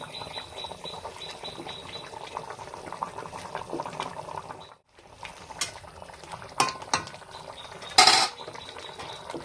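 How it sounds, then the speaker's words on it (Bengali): Fried rohu fish pieces go into a pot of soft potato and taro curry, with close clinks of a utensil against the metal pot and soft bubbling, a brief hush midway, then scattered knocks and one bright clatter near the end. "এখন আমি ভেজে নেওয়া মাছগুলো দিয়ে দিচ্ছি।"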